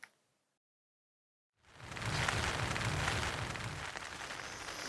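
Steady rain falls at a hunting camp, a dense, continuous hiss starting after a brief silence and holding at a moderate level to the end.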